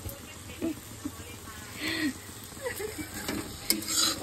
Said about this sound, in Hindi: तो यहाँ पे हो रहा है मसाला फ्राई,